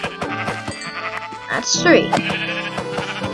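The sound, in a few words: sheep bleating in Minecraft video game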